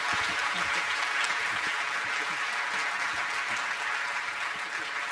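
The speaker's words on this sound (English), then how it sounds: "give Professor Tommy Koh a big round of applause for a lovely, lovely panel discussion" Loud, sustained applause from a crowd closing a panel discussion, a dense steady wash of clapping that continues throughout without a break.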